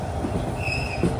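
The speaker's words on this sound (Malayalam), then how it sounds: "ഈ ട്രെയിന് ജംഗിൾ ട്രെയിൻ എന്നാണല്ലോ പറയുന്നത്." The Malaysian jungle train from Johor Bahru to Tumpat rumbles along steadily, a dense low roar from carriage and wheels with a thin high wheel squeal rising briefly over it.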